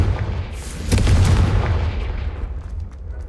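A Confringo fire spell in Hogwarts Legacy erupts as a heavy, close explosion with sharp cracking bursts near the one-second mark, then a booming tail that fades slowly.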